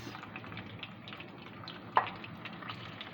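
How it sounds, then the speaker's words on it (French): A pot of fougasse filling simmers on low heat, giving a faint, steady bubbling hiss with small scattered pops and one sharper click partway through. "La marmite, elle est en train de bouillir."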